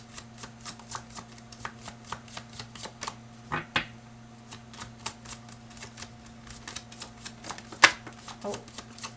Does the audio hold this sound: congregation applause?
no